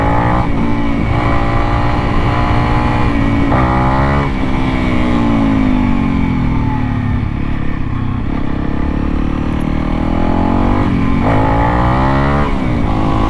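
A Honda CRF 300L dual-sport motorcycle with an airbox mod, Stage 1 ECU tune and MotoX exhaust accelerates in second gear without the clutch, its loud engine note rising and falling in pitch through several throttle pulls, close up.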